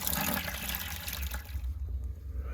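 Water draining out of a steam boiler during low water cutoff testing, a soft trickling, gurgling flow that stays fairly faint and gradually thins toward the end.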